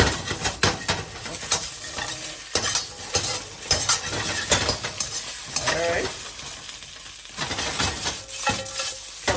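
Onions for a budget ramen noodle dish are tossed and stir-fried in a pan, close and loud, with an irregular rhythm of sizzling bursts, scraping and metal clanks as the pan is flipped.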